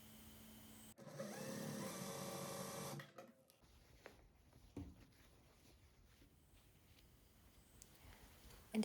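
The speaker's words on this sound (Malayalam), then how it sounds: "ഇതുപോലെ നല്ല വശങ്ങൾ ചേർത്ത് വെച്ച ശേഷം ഷോൾഡറിൽ നമുക്ക് സ്റ്റിച്ച് കൊടുക്കാം." A sewing machine stitches a shoulder seam on a double-collar neck garment, a steady whirring run of about two seconds near the start, then quieter handling sounds.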